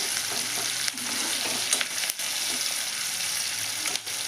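Pieces frying in oil in a pan, a loud steady sizzle close by with a couple of brief stirring interruptions, no voice present.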